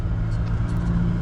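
A car's engine rumbles steadily and close up while driving in low gear, with a faint rise in revs as the transmission works through a shift.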